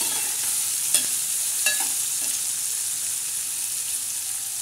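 A pan of moong dal fry with a spiced tempering being stirred, spoon scrapes and small clinks over a continuous low sizzle, close by and with no talking.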